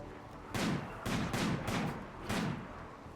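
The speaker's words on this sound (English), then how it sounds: "Oh, I have a mini turret that is trying to shoot me." A mini turret fires in RimWorld: four loud, evenly spaced bursts of shots, each a short blast with a fading tail, sounding near and alone with no talk.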